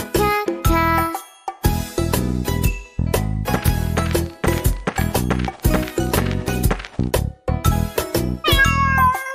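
Repeated cat meows ring out in a bouncy Spanish children's song, bright and close, punctuating the tune in short rhythmic bursts alongside jingling, tinkling accompaniment.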